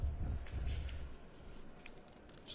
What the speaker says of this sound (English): Lots of cuts on the pink paper